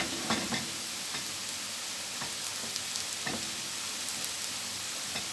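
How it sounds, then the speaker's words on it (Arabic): Minced meat browns in a pan for potato dish, a steady broadband sizzle running throughout with a few soft scrapes and clicks of stirring, close and even, no voices. "كده عشان احط عليه اللحمه المفرومه. كده داخل خلاص على تحمير اهو"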